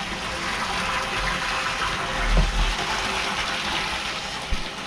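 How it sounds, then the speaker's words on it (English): Water gushing steadily through a 2-inch hose from an IBC container into a sprayer tank, a continuous close rushing fill with a faint knock near the end. "This is how you fill a sprayer up right here. 2-inch hose."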